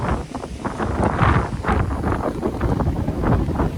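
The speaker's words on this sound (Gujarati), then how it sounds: "પવન બહુ એટલે બહુ છે." Strong seaside wind buffets the microphone in heavy, rumbling gusts, a constant roaring blast with no voices.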